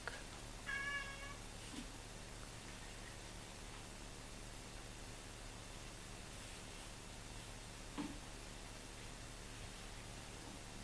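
A cat gives a single short, faint meow near the start, then only a steady quiet hiss and low hum fill the rest.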